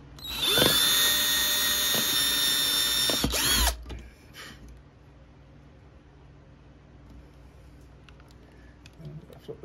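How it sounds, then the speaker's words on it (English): A power drill bores a hole during installation of Tortoise switch machines on a model railroad layout, whining loud and steady for about three seconds before stopping abruptly, followed by quieter handling clicks and faint room noise. "Just gonna drill a hole,"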